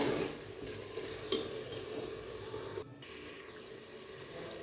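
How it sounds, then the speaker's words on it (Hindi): Ajwain masala being stirred and roasted in ghee for a Punjabi chicken curry, giving a steady low sizzle with soft scraping of a spoon in the pan, close and continuous. "तो अब यहाँ पर हम 8 मिनट के लिए अच्छे से भुनाई करते हैं"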